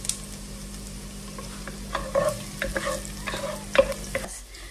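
Garlic frying in a pan in a home kitchen, a soft steady sizzle with scraping and tapping as it is stirred with a utensil, close and fairly quiet with no talk.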